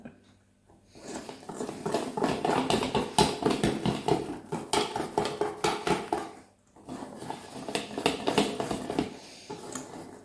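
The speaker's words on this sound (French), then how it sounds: "je viens racler les bords" A spatula scraping around the sides of a mixing bowl full of banana bread batter, giving a dense run of rapid scratching and knocking strokes close up, with a short pause before the scraping resumes.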